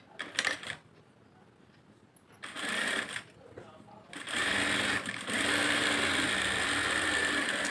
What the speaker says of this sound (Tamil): இப்போ வந்து படிமான தையல் போடுறோம்.